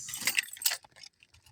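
A set of keys jangles close by in a few quick metallic bursts, then faint clinks fade out within about a second.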